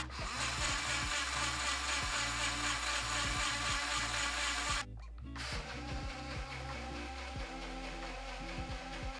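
A Ninja Blast Max portable blender runs loud and close, its motor whirring steadily with a brief cut-out midway before the blending resumes at the same fixed speed.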